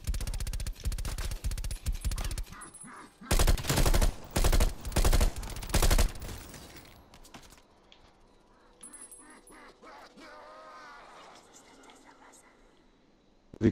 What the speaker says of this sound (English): They come to gunfire.